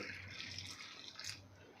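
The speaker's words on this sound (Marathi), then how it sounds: "तर इथे मी 2 कप गरम पाणी घेतलेलं आणि ते यामध्ये घालायचं आहे" Hot water poured into a bowl of tamarind, a brief faint splashing trickle heard close and quiet.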